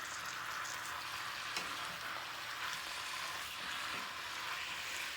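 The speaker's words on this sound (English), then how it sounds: "we are just going to brown this ground beef up" Ground beef browning in a cast iron skillet, a steady, even sizzle and crackle of frying meat running the whole time, close and moderately quiet, with no talking.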